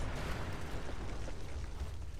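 Explosions from the Experimental MIRV launcher in Fallout 76, a dense continuous rumble of overlapping blasts with low booming bursts, steady and fairly faint throughout.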